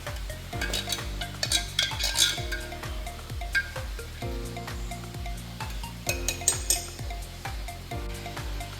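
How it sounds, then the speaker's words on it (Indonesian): A spoon stirs and clinks against a glass bottle in a steady repeating rhythm, close up, with soft scraping between the clinks and background music. "Lalu mengaduknya dengan menggunakan sendok."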